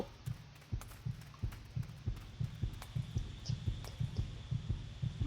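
Inside the video game SCP-106 Survive the Night, a loud, low heartbeat thumps in a steady, fairly quick rhythm of paired beats, alongside occasional faint clicks and a high background hum, no talking.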